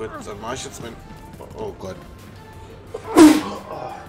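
A single loud sneeze bursts out after a stretch of casual German talk, sharp and close, followed by a short exclamation from the same voice.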